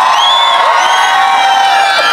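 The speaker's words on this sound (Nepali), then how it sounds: "उहाँहरूलाई ताली सँगसँगै अझै ठुलो हुटिङ पनि चाहियो के" Concert crowd at a live band show in Dharan cheering, whooping and applauding as the musicians take the stage, a loud, dense and continuous roar with scattered shouts throughout.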